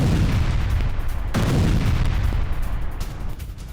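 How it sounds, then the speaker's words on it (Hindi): Heavy gunfire and booming blasts from attacks on the Syrian army, a loud, dense barrage of overlapping shots and detonations with a sharp burst partway through. "सीरिया की सेना पर हमलों का वीडियो जारी कर दिया गया है।"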